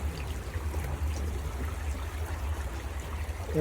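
Hot water bubbles and churns steadily in an apartment spa jacuzzi, a low, continuous gurgling wash with no voices.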